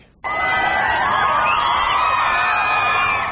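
A crowd of about 3,000 outside Melbourne's Government House erupts in loud, sustained cheering and high-pitched screaming, starting abruptly and holding at full volume throughout, close and dense.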